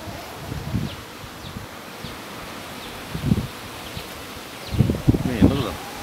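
Swarm of honeybees being hived into a top bar hive outdoors, a soft continuous buzz with rustling, broken by bursts of nearby talk.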